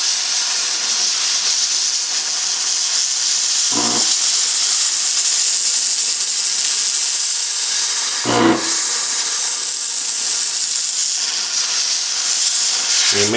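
A steam cleaner blasts a gun with loud, continuous high-pitched hissing, broken by two brief pauses where the jet cuts out and restarts, close and without speech.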